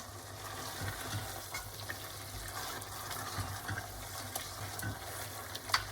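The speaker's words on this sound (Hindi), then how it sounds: "अब मैं थोड़ी सी आंच इसकी तेज़ करके इसको मीडियम पे लेके आऊँगा और हम इसकी गोश्त की भुनाई शुरू कर देंगे।" Meat for aloo gosht fries in a pot over medium heat, giving a faint, steady sizzle with occasional soft stirring scrapes.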